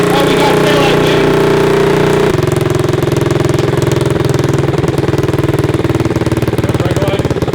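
A Honda CT70 motorcycle engine runs loud and steady throughout, its rapid pulsing exhaust note shifting to a slightly lower, rougher idle partway through, with a brief voice under the engine.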